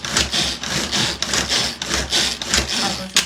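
A knife chops sun-dried tomatoes rapidly on a board in quick, uneven strokes, close and crisp, with a brief louder knock near the end.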